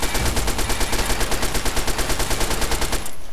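Rapid automatic gunfire in Fallout 3, a long steady burst of evenly spaced loud shots that runs for about three seconds and then cuts off abruptly, with no talking.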